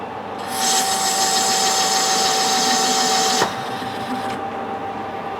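Metal lathe machining a thrust washer for a vintage vice, a loud steady whining cut with a fixed tone that starts abruptly and stops after about three seconds, leaving the motor running.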